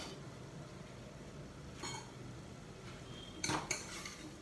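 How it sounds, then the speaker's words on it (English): Spoon stirring cabbage and soaked chana dal with spices in a pressure cooker, giving soft scraping and a few sharp metallic clinks against the pot, alone and fairly quiet. "I am giving a good mix."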